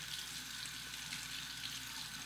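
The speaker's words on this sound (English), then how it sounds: "I'll temper it under the hot water," Hot tap water runs steadily over a Feather Popular safety razor loaded with a Feather blade, a faint continuous hiss and splash close by with no talking.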